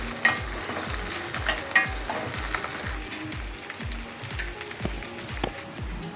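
Curry leaves, chillies and garlic fry in hot oil, crackling and sizzling while a spoon scrapes and stirs in a regular rhythm of repeated strokes, close and clear.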